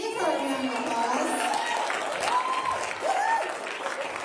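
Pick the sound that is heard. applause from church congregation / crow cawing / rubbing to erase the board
applause from church congregation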